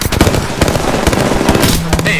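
A frag grenade blast and gunfire in the shooter game Apex Legends: a loud, rapid string of sharp pops and bangs crackles close by over about two seconds.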